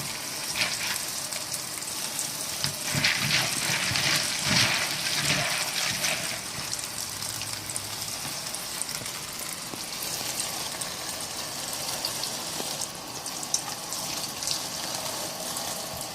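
Continuous running cold tap water splashes and trickles over pumpkin seeds being rinsed, with occasional soft clatter, close and steady for the whole stretch.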